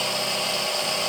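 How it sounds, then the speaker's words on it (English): A high-pitched drill whines steadily as it bores through the plastic plug hole of a campervan fridge freezer wall, loud and close, lasting about a second with no talking. "I'm going to drill through the centre of this plug hole"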